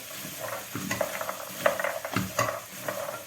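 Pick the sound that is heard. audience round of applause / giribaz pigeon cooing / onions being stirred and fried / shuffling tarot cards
onions being stirred and fried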